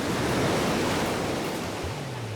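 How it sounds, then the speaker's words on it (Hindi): Continuous broad wash of sea surf rolling onto a beach, steady and fairly loud with no voices, a low tonal hum entering near the end. "ये सी बीच है"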